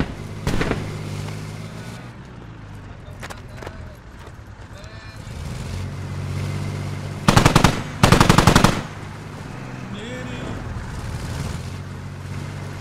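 Gunfire in a squad shooter video game, two sustained bursts of rapid automatic fire amid scattered single shots, with a low rumbling ambience and intermittent voices talking over it.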